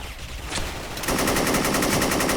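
Rapid automatic fire from an AN94 rifle in a video game rattles in a fast, steady burst, loud and close, after a brief lead-in of game noise.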